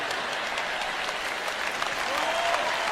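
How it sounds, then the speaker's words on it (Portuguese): A church audience claps in sustained, evenly textured applause at a Christian sermon, steady and moderately loud with a faint murmur of voices underneath. "Vocês não estão aplaudindo muito forte."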